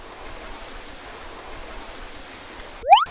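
Jok Kradin waterfall in Thong Pha Phum National Park, Kanchanaburi, roars steadily as a continuous rushing wash of water, with a brief rising electronic chirp right at the end.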